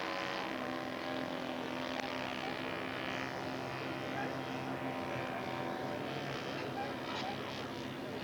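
A scale-model multi-engine aircraft flies with its left engine dead and only two engines still running. Its propellers give a steady, fairly distant drone throughout, with no voice over it.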